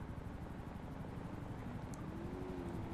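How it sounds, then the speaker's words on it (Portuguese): Helicopter in a video game, a low steady rotor drone with rising whine, continuous and fairly distant under faint background noise. "Olha o helicóptero."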